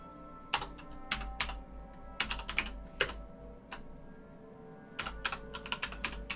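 Keys clatter on a computer keyboard during a session of Factorio, arriving in quick bursts of taps separated by short pauses, close and moderately loud over a low steady hum.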